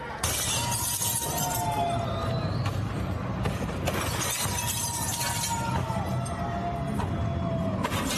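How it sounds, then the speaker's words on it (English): Glass shatters repeatedly as a man in black strikes the windows of a federal building in downtown Los Angeles with a large weapon, sharp crashes cutting through constant street noise while a faint siren wails. "a man dressed all in black with a giant weapon of sorts shattering the windows on a federal building in downtown Los Angeles"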